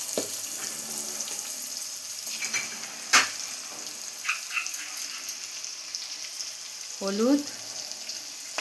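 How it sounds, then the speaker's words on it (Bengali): Onion, garlic and capsicum fry in a pan with a soft, continuous sizzle, broken by a few clinks and scrapes of stirring, while a voice speaks briefly. "পেঁয়াজ, রসুন, ক্যাপসিকাম ভালো করে ভাজা হয়ে গেছে"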